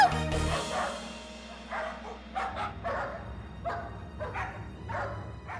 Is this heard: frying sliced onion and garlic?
no